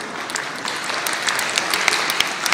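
Audience applause at a jazz conference, a dense, steady clapping from many people, loud and continuous, with individual crisp claps popping out over the wash.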